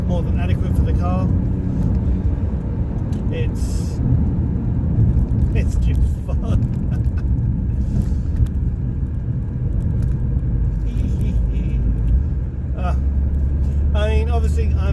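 Ford Fiesta Zetec S driving, a steady low engine and road rumble running throughout at an even level beneath someone talking close by.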